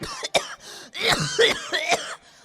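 A performer on a comedy stage coughs repeatedly in a harsh, rattling fit, with a few loud bursts and throat clearing close to the microphone. The sound is staged and exaggerated, and no other voices are heard.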